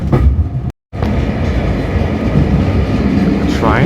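A heritage train on the Severn Valley Railway runs between Kidderminster and Bewdley, a loud close rolling rumble with rhythmic wheel clatter heard from on board, briefly cut out near the start, and faint voices in the carriage.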